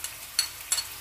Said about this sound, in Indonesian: Masukin cabai.